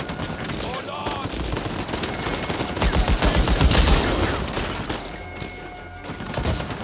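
Gunfire in the video game Uncharted 4: A Thief's End, a sustained fusillade of overlapping rapid shots and impacts swelling in the middle, with game dialogue and voices mixed in underneath.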